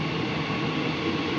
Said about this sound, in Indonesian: Oh, ini kereta bandaranya berangkat nih.